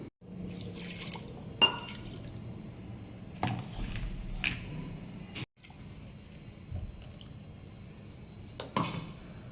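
Water poured into blended mango pulp and stirred in a kitchen, with soft dripping and splashing, a few sharper clinks and a steady low background, no talking.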